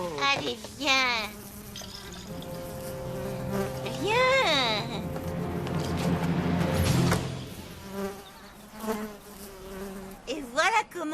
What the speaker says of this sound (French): Et voilà comment on attrape les abeilles